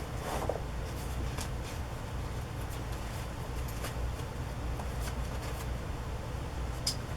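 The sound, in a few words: handling and sorting through paper note cards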